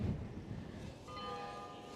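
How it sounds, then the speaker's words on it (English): Western Church Tower bells in Amsterdam ring out faintly in the distance after a gusty rumble of wind, their sustained tones hanging steadily over the blustery background. "the Western Church Tower bells"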